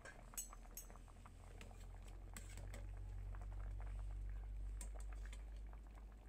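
Tapioca root simmers in a pot of water, a steady low bubbling rumble with occasional faint clinks of utensils, heard alone without talk.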